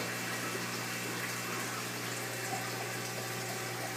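Water flows steadily through a DIY overflow prototype, a constant rushing, gurgling wash at low level with no talk over it.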